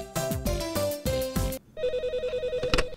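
An office desk telephone on a cluttered desk rings loudly and close, first in a burst of bright chiming tones, then as a rapid pulsing electronic trill, with no talk.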